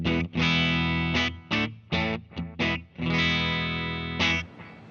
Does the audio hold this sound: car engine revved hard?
no